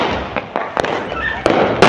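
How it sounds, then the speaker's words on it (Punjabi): Diwali and Bandi Chhor Divas firecrackers going off at night: a handful of sharp, close pops and cracks in irregular succession over a continuous hiss of distant fireworks. "ਉੱਪਰੋਂ ਮੈਂ ਥੋੜੇ ਪਟਾਕੇ ਚਲਾਏ ਜੇ ਪਟਾਕੇ ਕਾਫੀ ਚੱਲਦੇ ਪਏ"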